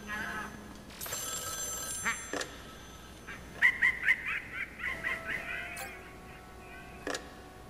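A telephone rings in the Luigi's Mansion 3 video game, a burst of chirpy electronic trills with quacking and squeaky game effects around it, moderately loud with no talk.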